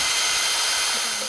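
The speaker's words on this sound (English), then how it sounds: "So you're going to drill it in, and as you pull it out, drill as well." A power drill bores into a rhino horn, giving a steady, loud, continuous whirring grind with no break across the short stretch.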